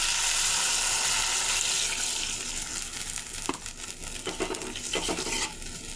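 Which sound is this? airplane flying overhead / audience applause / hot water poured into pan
hot water poured into pan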